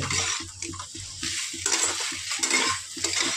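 Crabs for a spicy crab curry stirred and fried in a pan, with repeated scraping and clattering of the spoon against the metal over a steady sizzle, close and moderately loud with no talking.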